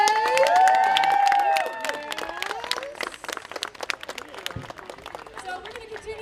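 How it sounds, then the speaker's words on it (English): A crowd cheers and whoops for the queens at first, then breaks into scattered clapping with shouts. Voices and the applause stay close and lively throughout. "Clap your hands for the queens today."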